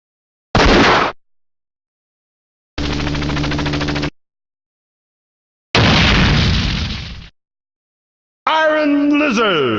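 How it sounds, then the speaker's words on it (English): Heavy Machine Gun fire from the video game Metal Slug Defense comes as loud, separate arcade-style bursts of rapid shots with silent gaps between them. The last burst is more tonal and electronic. "Heavy Machine Gun."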